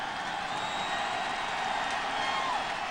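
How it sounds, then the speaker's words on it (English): Crowd noise at a baseball game between the Astros and Cardinals with the bases loaded, a steady dense roar of fans cheering and calling out, continuous and loud for the whole stretch. "Crowd comes alive."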